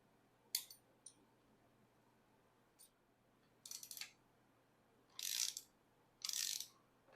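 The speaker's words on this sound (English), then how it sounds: "So now I'm just going to put those studs back in and screw everything down." A ratchet drives transmission studs back into a Royal Enfield Bullet 500 motorcycle, giving a few quiet clicks and then three short bursts of rapid ratcheting, alone and close.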